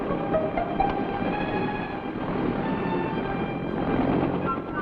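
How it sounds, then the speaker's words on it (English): A Bell UH-1 Huey military helicopter takes off with a steady, loud rotor and engine roar that holds evenly throughout, with no talk over it. "The Huey takes off like an angry hornet."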